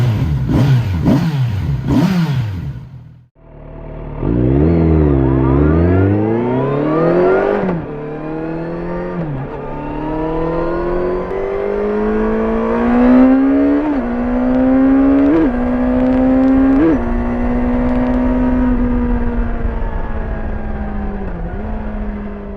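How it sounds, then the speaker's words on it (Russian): A Kawasaki Ninja ZX6R sport motorcycle engine revs loudly and close, with a few sharp blips before climbing into long, rising high-rpm pulls that hold and waver, no talk over it. "Kawasaki Ninja ZX6R"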